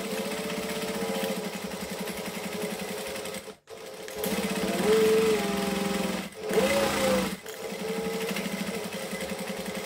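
A sewing machine keeps up a steady, fast whirring run as it stitches over bulky seams on a clutch bag. It pauses briefly twice and slows or strains a little in places. It is close and loud, with no talking.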